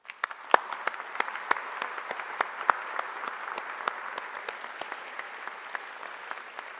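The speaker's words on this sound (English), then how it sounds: "An applause for my panel members" Conference plenary audience claps for a panel, a steady crackle of many hands at moderate distance, with sharp individual claps standing out, continuing throughout.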